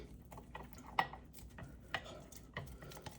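Flour is worked into water for a small batch sourdough starter with a chopping stirring motion, giving soft irregular taps and scrapes of a utensil in a container, a few sharper clicks among quiet rustling.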